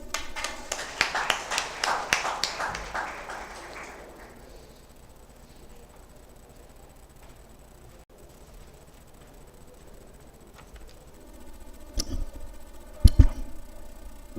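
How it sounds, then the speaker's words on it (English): Audience applause at a university golden jubilee inauguration for a ship technology department, a burst of clapping for about three seconds that fades into quiet, then a few sharp taps and knocks near the end. "Let's welcome him with a round of applause."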